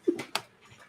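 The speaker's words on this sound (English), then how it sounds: "Dog's barking." A dog gives a short, sharp yip followed by a second quick bark-like burst, both brief and fairly close, then fades into quiet room noise.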